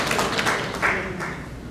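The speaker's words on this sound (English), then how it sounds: "We should give her a round of applause." Brief applause from a seminar audience, a short burst of scattered clapping that fades within two seconds, with no voices over it.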